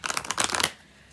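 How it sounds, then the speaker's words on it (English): A deck of Archetype tarot cards is shuffled in one brief riffle of soft, quick flutters at close range, then it falls quiet. "we're going to shuffle"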